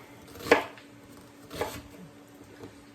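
A knife chops a whole ripe onion on a board, giving two distinct cuts about a second apart and then a fainter third tap. The sound is quiet and close, and no one speaks.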